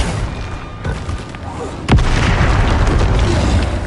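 A Bombarda spell explosion in the video game Hogwarts Legacy, a sudden loud boom about halfway through that gives way to a sustained rumbling roar after a quieter stretch of game ambience.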